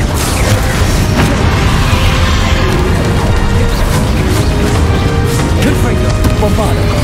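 Confringo blast spell exploding in the Hogwarts Legacy video game, a loud, dense roar of crashing, crackling impact sound that fills the whole stretch without pause, with no talk.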